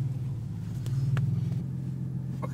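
The engine of a manual-transmission car, sitting in neutral, idles with a steady low rumble throughout, and a couple of faint clicks and knocks come through over the hum.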